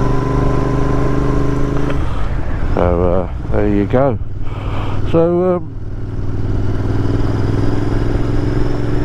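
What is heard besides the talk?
motorcycle engine running while riding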